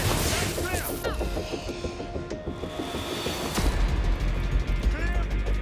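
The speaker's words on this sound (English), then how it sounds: "Explosion incoming!" Gunfire and a blast ring out in the Watch Dogs: Legion game, with rapid mechanical clatter and pops that are loud and dense, and a heavy low boom near the end.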